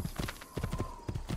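Horse hooves clip-clop in a steady, galloping rhythm in the video game Assassin's Creed 2, with quick repeated thuds close up and no voices over them.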